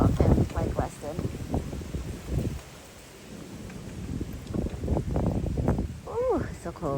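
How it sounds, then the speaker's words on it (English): Cold evening wind buffets the microphone outdoors, a continuous rough rumble with gusts that swell and ease, heard under someone talking for most of the time. "Ooh, it's so cold. Guys, this wind, my God, it sucks."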